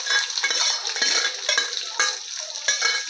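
A spoon scrapes and clanks rhythmically against a hot pan while onion, chili and poha are stirred, close and clear, with light frying underneath and no voices.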